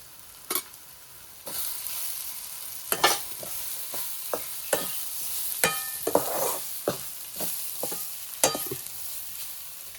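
A spoon scrapes and clacks repeatedly against a kadhai while clams with garam masala sizzle steadily underneath, the stirring strokes coming in irregular bursts.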